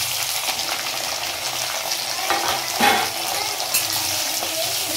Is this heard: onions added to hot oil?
yes